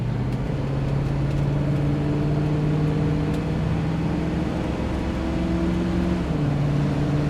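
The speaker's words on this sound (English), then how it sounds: "Tranny shifts real nice." A 1966 Ford Mustang drives steadily with a low, continuous engine drone whose pitch shifts as the transmission changes gears, heard from inside the car with no talking.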